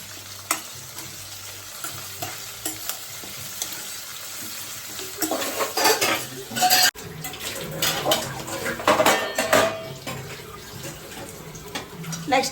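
Food frying and being stirred in a pan, with steady sizzling and scraping strokes that grow busier and louder in the second half; a voice is faintly present at times.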